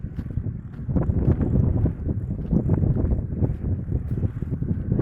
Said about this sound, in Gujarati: ટ્રેક્ટર ગાજે છે